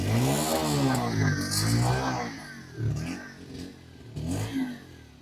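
Bajaj Pulsar 125 motorcycle exhaust blipped through several rising and falling revs, loud and close, with no talking.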